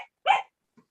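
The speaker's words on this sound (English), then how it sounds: "Oh, that dog." A single short dog bark, fairly close and loud, heard during a community board meeting held over a video call, followed by a faint small sound and then quiet.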